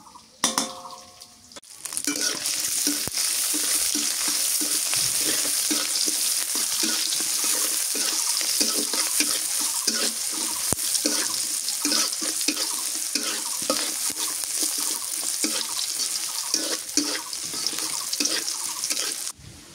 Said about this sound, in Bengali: যে পরিমাণে বাতাস উঠছে, পেঁয়াজ ভাজা হয়ে গেছে।